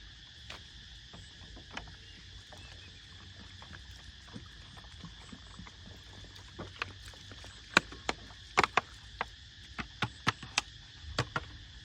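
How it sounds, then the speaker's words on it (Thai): Cicadas in a garden at dusk sustain a loud, continuous high-pitched drone, with a chorus of sharp clicks and ticks growing more frequent over the final seconds. "เราได้ยินเสียงอันนี้ปะเสียงไอ้แมงอีจักรจันทร์ห้องสนั่นพันพื้น"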